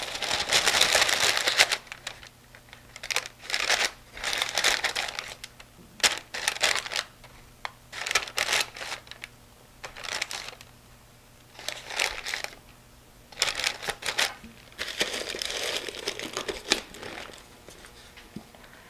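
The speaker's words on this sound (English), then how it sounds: "What I'm going to do is put another piece of wax paper on top." Wax paper crackles and crinkles close up in repeated bursts as a sheet is pressed down over a tin of homemade fudge, sharp papery rustles separated by brief quiet gaps.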